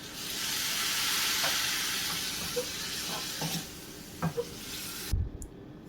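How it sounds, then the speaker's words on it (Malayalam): Vinegar is poured into a freshly mixed raw turmeric pickle with a steady hiss, then a spoon stirs it with a few soft scrapes and knocks before the sound cuts off. "ഇനി ഇതിലേക്ക് 2 സ്പൂൺ വിനീഗർ ഒഴിച്ചു കൊടുക്കാം"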